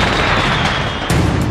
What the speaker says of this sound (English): A high-speed camera will capture the cannon shots as they travel in front of this backdrop.